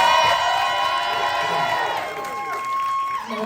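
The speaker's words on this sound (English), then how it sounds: "So another round of applause, please," A crowd at a drag performance competition cheers, whoops and shouts in a loud burst that gradually fades over a few seconds, with scattered applause beneath the voices.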